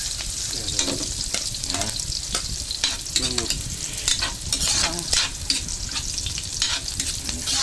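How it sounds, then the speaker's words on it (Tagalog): Garlic sautéing in a hot pan gives a steady, close sizzle and crackle, with repeated scraping stir strokes from a utensil throughout. "napakabango po ng aming nagawang pagigisa"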